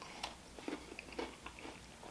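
Biting and chewing an Oreo-topped Krispy Kreme donut with a novelty cookie on top, with soft close crunches and a few sharp bites over about two seconds, quiet and with no talking.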